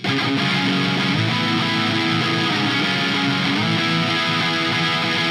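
Electric guitar driven through a DS1 clone distortion pedal with the Mayflower pedal switched off, a thick, dirty, sustained chordal wash that plays loud and steady throughout with no voices.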